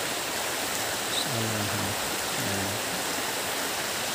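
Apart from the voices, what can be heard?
river flowing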